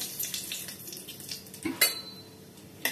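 Five-spice mix and a bay leaf sizzling in hot oil, a steady frying hiss with a few sharp clinks of a utensil against the pan.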